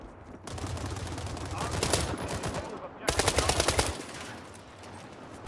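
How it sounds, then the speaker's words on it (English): Gunfire in the World War 3 game, two rapid bursts of sharp cracking shots close by, separated by a brief pause, with a voice speaking intermittently. "There's somebody sniping from the building over here"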